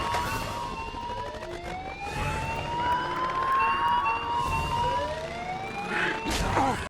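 Ambulance sirens in a Justice League film scene wail with rising and falling sweeps, several overlapping, over a rumbling action-scene background for about seven seconds.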